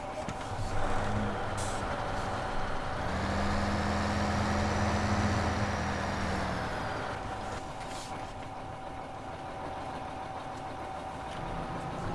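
A Terra Variant beet harvester engine in Farming Simulator 2015 drones at a steady idle, swelling into a louder, throatier tone for a few seconds mid-clip before settling back to a constant hum with a faint hiss.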